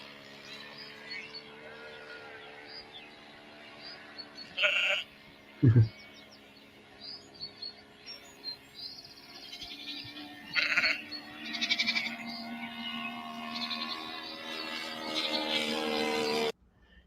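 Sheep bleating in a field, a few short, wavering bleats at intervals over a steady droning background hum, with a brief low thump partway through and no talk.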